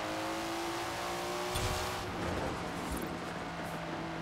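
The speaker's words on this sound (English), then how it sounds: "The turbos, the blow-off valve." Nissan Skyline GT-R in Forza Horizon with turbos whooshing and a blow-off valve hissing, a loud continuous engine drone with sharp bursts of hiss and flutter midway.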